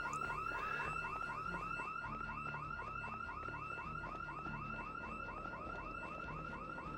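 A car alarm in the video game Project Zomboid wails continuously, a rapid repeating whooping siren cycle held steady at moderate level, alone without talk.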